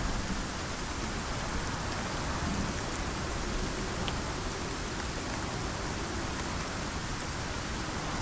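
Steady rain falls in the survival game Icarus, a dense, even hiss of drops that holds at a constant level throughout, with no voices over it.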